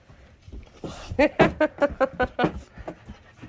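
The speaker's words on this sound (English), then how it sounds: "Ziggy Dog, say hi, Ziggy Dog" Excited dog panting and whimpering in a home bedroom, a rapid series of close, high, breathy yelps and whines in short bursts, with faint household background.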